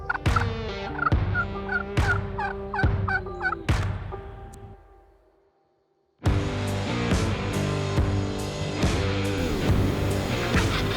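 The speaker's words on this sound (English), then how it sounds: "The turkeys are probably still on the roost." Wild turkeys on the roost gobble loudly and close by, in several sharp bursts that fade to a short silence before a dense, continuous wash of overlapping gobbling.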